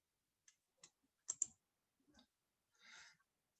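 A computer mouse clicks a few times, sparse and faint, with isolated taps and a quick double click. A soft breathy rustle follows near the end of a very quiet background.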